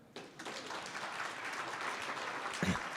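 An audience applauds at a business elevator pitch, a steady wash of clapping rising quickly after a brief quiet start and holding fairly even for a few seconds, with a louder thump near the end.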